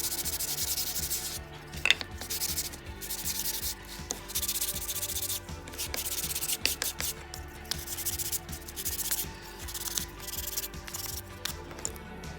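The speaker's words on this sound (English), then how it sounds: "I will go ahead and finish sanding with the 180 and 320." Hand sanding on wood with 180 and 320 grit sandpaper: a rough, scratchy rubbing repeats in steady back-and-forth strokes, close and fairly quiet.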